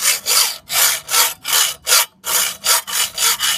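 A hand saw meant for stone or masonry cuts through a geode clamped tight under pressure, with about nine steady, loud back-and-forth rasping strokes in an even rhythm and a brief pause midway.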